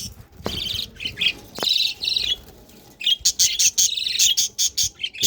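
A colony of breeding pet birds chirps and squawks close by, their calls overlapping in busy bursts with brief pauses between them.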